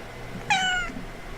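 A single cat meow, short and clear with a rising-then-falling harmonic tone, heard close against a quiet room background.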